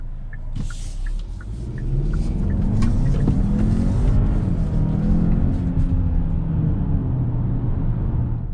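A 2021 Hyundai Santa Fe 2.5T turbo with all-wheel drive accelerates hard from a launch, its engine rumble swelling and holding loud and close for several seconds as it pulls, with faint clicks at the start.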